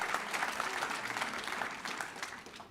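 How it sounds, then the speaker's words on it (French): A crowd at a French political rally against pension reform breaks into loud, sustained applause, a dense and even roar of many hands clapping at once. "Non, je vous laisse applaudir."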